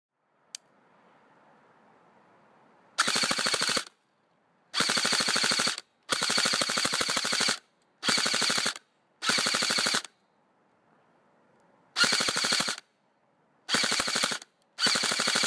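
Rifle gunfire from a rifle fed by a Magpul 75-round PMAG drum magazine, fired in several loud rapid bursts of varying length separated by short pauses, with faint background noise between strings.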